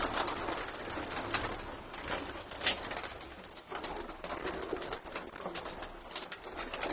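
Game pigeons of the Jugnu and Red Bull breeds coo softly in a loft, a fairly faint, repeated murmuring under a steady background hiss, with no talking.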